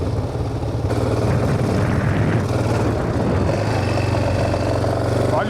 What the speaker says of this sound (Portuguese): Olha o barulhão da moto.